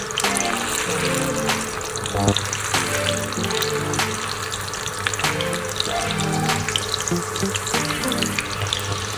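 Vietnamese crispy spring rolls fry in hot oil with a steady, dense, close sizzle that carries on throughout without pause.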